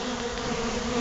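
Honey bees swarm an open sugar syrup feeder, their dense buzzing a steady, close hum throughout the brief moment.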